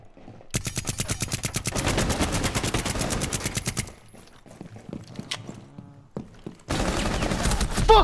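Rapid automatic gunfire in Rainbow Six Siege, a long dense burst of close, loud shots, then a quieter gap with scattered clicks and thuds before another heavy volley.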